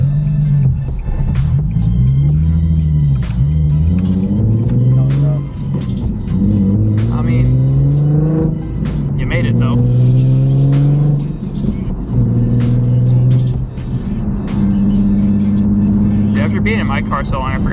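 Nissan 370Z climbing a hill, its engine loud and close, pitch rising and falling through repeated acceleration pulls over continuous road noise, with talk over it.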